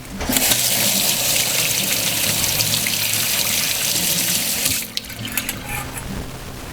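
Water from a kitchen tap runs steadily into a sink as boiled mushrooms are rinsed, a loud continuous broadband splash that cuts off abruptly near the end, leaving only a few drips and faint trickles.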